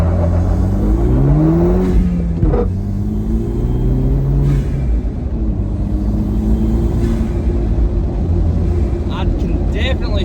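A lifted sixth-generation Camaro on 33-inch Rough Country tires revs hard during a clutch launch, its deep engine note rising and falling in sweeps over a steady loud rumble, with people talking nearby.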